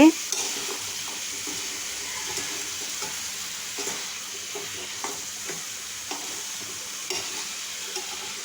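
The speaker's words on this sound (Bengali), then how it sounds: "মিষ্টি কুমড়া দিয়ে নেড়ে চেড়ে ডাকনা লাগিয়ে রান্না করব এখন নেড়ে চেড়ে দিচ্ছি" A spatula scrapes and taps rhythmically against a frying pan as sweet pumpkin and shrimp are stirred, over a low continuous sizzle, close and clear with no talking.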